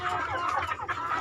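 Chickens and roosters clucking together on a poultry farm raising crossbred roosters and young hens, a dense, continuous flock chatter with overlapping calls at moderate distance and no speech.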